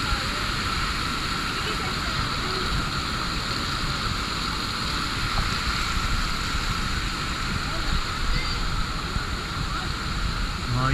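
Water pours steadily at Bunsuran Falls, a constant rushing hiss from nearby, with people talking faintly over it.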